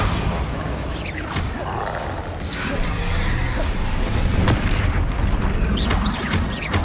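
Bombarda spell blasts in Hogwarts Legacy boom and crash through a dense, continuous rumble of combat, with repeated heavy impacts and creaking debris filling the whole stretch.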